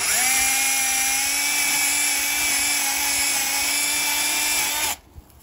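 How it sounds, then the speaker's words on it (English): A small chainsaw cutting a bonsai tree whines at a high, steady pitch for several seconds, loud and close, then cuts off abruptly. "Let's just take it off with this little chainsaw"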